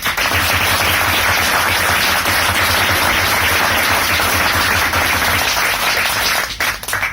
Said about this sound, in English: another huge round of applause to them